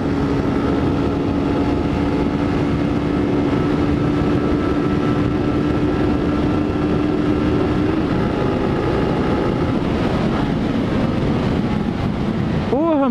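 A Honda CG 160 Start motorcycle engine drones steadily while riding in fourth gear, its pitch holding and then climbing near the end, heavily mixed with loud, continuous wind rush.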